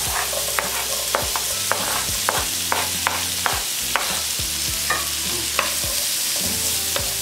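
Onion fries in a pan for seasoned rice with broccoli. A spoon scrapes through it in repeated, rhythmic stirring strokes over a constant close sizzle, with no talking.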